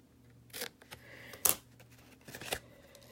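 A few sharp scissor snips cut paper at an angle for a craft project, spaced irregularly and close, with light paper rustling between the cuts in a quiet room.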